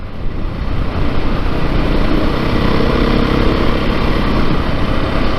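A 2022 Beta 430 RR-S dirt bike engine drones steadily while being ridden, a loud continuous rumble with even throttle and no talking.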